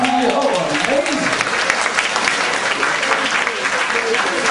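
Audience applause at a live comedy show, steady dense clapping filling the room, with voices talking and laughing over it throughout.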